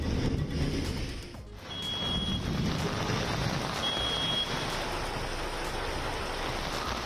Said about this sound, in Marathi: मुंबईसह उपनगरांमध्ये पावसाची संततधार